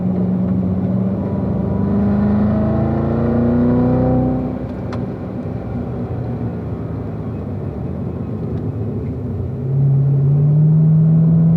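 A Corvette on a race track accelerates out of a turn, its engine rumbling and climbing in pitch through the gears, a loud continuous drone heard from inside the car, with a fresh rise near the end.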